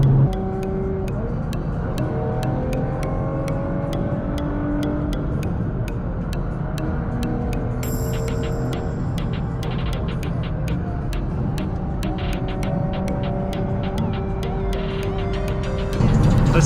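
A tuned 600 WHP Nissan GT-R drives fast on the road, its engine and road noise forming a loud, continuous drone from the cabin, with rhythmic ticking running through it.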